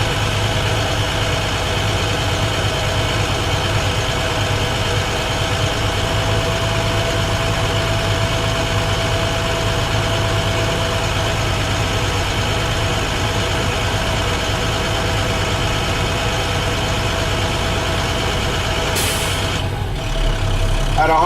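A truck's air brake system builds pressure under a steady idling diesel engine drone, then near the end a short sharp hiss bursts out as the air dryer purges.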